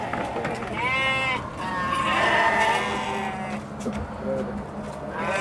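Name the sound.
goats bleating while being loaded onto a truck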